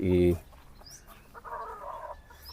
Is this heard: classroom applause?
no